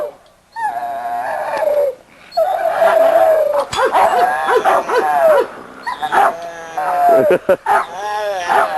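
Several dogs at a dog yard bark, yip and howl in loud overlapping bursts close by, with whining, drawn-out howls between them and brief pauses.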